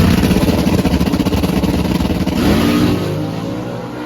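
A drag race car's engine in qualifying at Norwalk roars loud and close, rumbling hard, then settles into a smoother steady drone toward the end.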